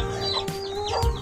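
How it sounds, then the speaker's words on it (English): A farm chicken clucks close by in a rural rice-harvest setting, giving a few short, loud clucks in quick succession over a quiet background. "And, hi chicken!"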